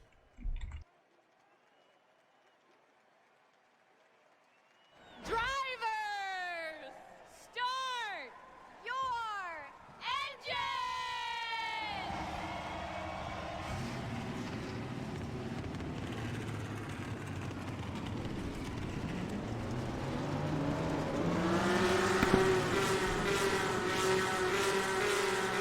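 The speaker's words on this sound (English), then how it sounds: "Let's get the command to fire engines for the Pennzoil 400 at Springfield." Video game stock cars fire up their engines at the start of the Pennzoil 400 at Springfield, several revving blips rising one after another, then a loud steady roar of the whole field idling together.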